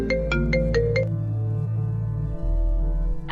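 A mobile phone ringtone plays in a Nigerian film scene: a few quick bright melodic notes up front, then a sustained electronic tune over a low rumbling background, fairly loud and close.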